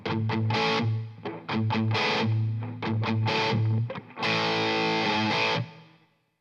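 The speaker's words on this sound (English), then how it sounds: "This distortion pedal is now available in a new model" Electric guitar through a distortion pedal and reverb playing chugging riffs and ringing chords from a song's verse, loud and close, in bursts separated by short pauses, the last chord left to decay.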